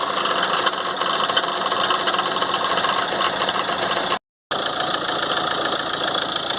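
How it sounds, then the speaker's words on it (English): A Ford Transit Custom van with oil in the exhaust idles roughly, a loud, close, steady engine drone with a knocking vibration throughout, broken by one abrupt brief dropout. "You can already hear the van doesn't sound very well there"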